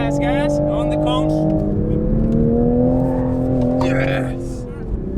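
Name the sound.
Toyota Supra accelerating at full throttle on a track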